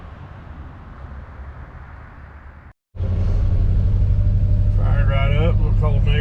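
A 1964 Ford Galaxie with a factory 427 V8 idles with a low rumble, cuts out briefly, then fires up again and settles into a loud, steady, deep idle. Voices talk over the engine near the end.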